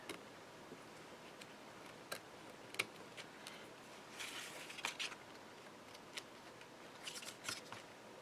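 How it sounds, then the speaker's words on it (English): Scissors trim card paper around a circle for a pop-up card. The snips are small, crisp and close, coming at an irregular pace in short clusters over a quiet background. "So I'm going to trim that along that circle."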